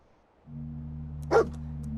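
Dogmeat, the dog companion in the video game Fallout 4, lets out a single sharp bark partway through, over a steady low in-game hum.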